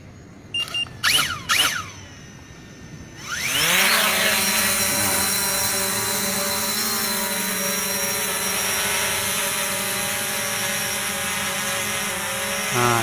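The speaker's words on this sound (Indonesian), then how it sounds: "Nah, drone sekarang hover, biarkan beberapa detik, sekitar 10 detik supaya lock GPS." A few short bursts of handling noise, then a Fimi X8 SE drone's rotors spin up to a loud, steady, high-pitched whine that holds evenly while hovering nearby after takeoff.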